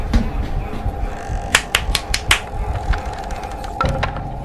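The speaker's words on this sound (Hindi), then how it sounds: "कोई तो ताली बजाया रे।" Several sharp claps in a haunted house video game, a short cluster of bright hits near the middle and a couple more toward the end, heard over low background music.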